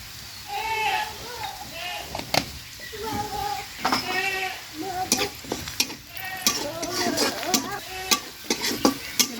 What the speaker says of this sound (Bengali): এবার আমি কালো জিরা ফোড়ন দিব।